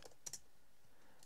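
A few quick clicks of a computer keyboard being typed on, faint and close, in brief taps with no talking.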